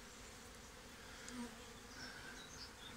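Honey bees from a hive, disturbed and shaken down onto a sheet below, give a faint, steady, continuous buzz with a few brief louder swells as individual insects pass close.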